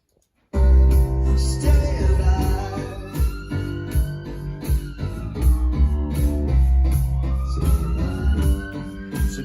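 A loud song with heavy beat and layered instruments, a wailing ambulance siren rising and falling over the music, and a brief sung line.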